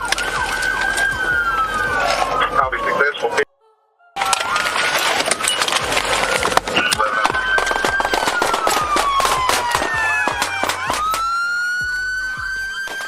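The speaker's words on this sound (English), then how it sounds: "A rapid exchange followed, nearly 70 rounds fired in seconds." Rapid gunfire, roughly seventy rounds, fired during a police stop of a suspect vehicle, heard as a dense, continuous volley of sharp cracks with wailing police sirens throughout and a brief dropout partway through.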